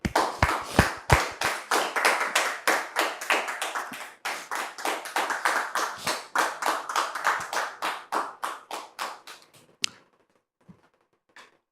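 A French TV studio audience claps to welcome a guest onto the set, brisk steady applause for about ten seconds that then tapers off into a few last scattered claps.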